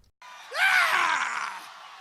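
A political candidate's famous campaign scream, a single loud rising yell that swells after a short pause and holds for over a second before fading.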